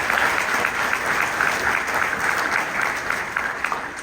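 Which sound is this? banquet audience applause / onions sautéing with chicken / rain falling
banquet audience applause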